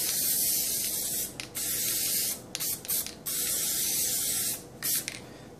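A can of aerosol spray adhesive hisses in several short, loud bursts separated by brief pauses, close to the listener.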